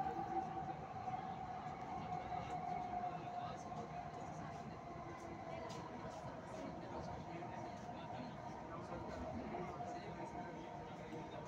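Steady interior rumble of a moving Delhi Metro train car, a continuous rolling drone with faint rail noise throughout, close and even in level; someone talks over it.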